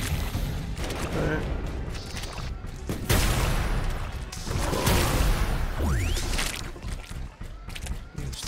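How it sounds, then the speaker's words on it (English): Gunfire and explosions in The Riftbreaker: bursts of rapid shooting and heavy booming impacts mixed with mechanical clatter, loud and continuous, with a rising whine near the end. "There's still something shooting at us from somewhere."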